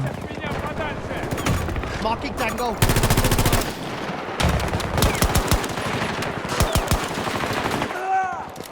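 Rapid automatic gunfire from the VHX 3D gun in Battlefield 2042 rips out in loud, dense, continuous bursts with brief breaks, and a voice speaks over part of it.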